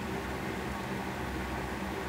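Electric fan runs steadily in a hot workshop, a constant even whoosh of moving air.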